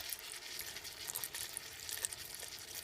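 Milk being stirred into garlic butter mashed potatoes: faint, soft, wet squelching and scraping that comes in quick, uneven strokes, with no talk.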